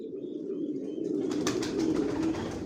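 A racing pigeon coos in a loft, a low throaty warble rolling continuously and close, with faint clicks and rustling alongside, with no talking.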